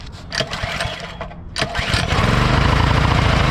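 A 212cc Predator small engine, running on milk in place of oil, is pulled and sputters a few times, then catches and settles into a loud, steady running drone.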